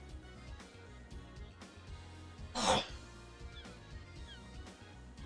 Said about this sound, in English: I'm like trying to clear my throat.